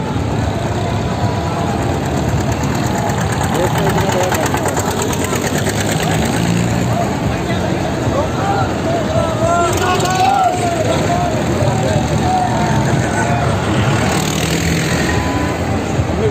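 Tractor engines rumble at a farmers' tractor parade leaving Ghazipur, a steady low idling drone with crowd voices and talking layered over it throughout.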